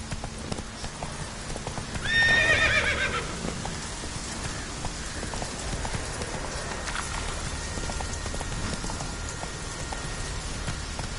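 In a PS4 video game, a horse gallops with steady hoofbeats under a rain-like hiss, and a loud neigh sounds near the start of the run.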